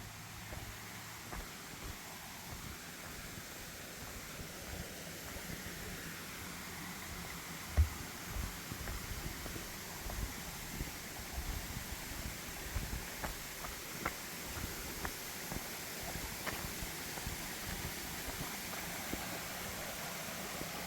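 Small waterfalls in Lehigh Gorge State Park give a steady, broad rushing hiss that holds evenly throughout, with faint footsteps and light crunches scattered over the constant flow.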